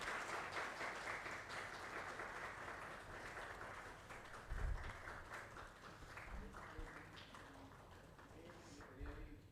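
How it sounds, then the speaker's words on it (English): An audience claps steadily at a formal event honouring a Joint Secretary of the Department of Justice, Ministry of Law, with a speaker's voice over the sustained applause and a few low thumps. "Come on everyone, don't stop clapping."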